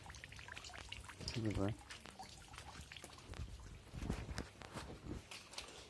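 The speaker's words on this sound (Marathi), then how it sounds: "इथे डायरेक्ट पाईप लावलेली असं वरून बघू शकता अशा प्रकारे पावसा पाण्याचं पाईप लावलेले आणि हे पाणी याच्यामध्ये येतं" Rainwater runs from a pipe into a vessel at a village house during the monsoon rains, a faint pouring trickle with a louder gush partway through, heard under a person talking.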